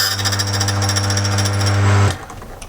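A key cutting machine grinds into a key blank, a loud continuous buzzing whine with a steady pulsing texture for about two seconds that cuts off abruptly into a quieter tail.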